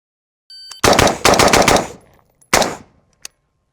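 AR rifle gunfire at an outdoor shooting range: a loud, close burst of rapid shots, a pause, then another shot and a final sharp crack.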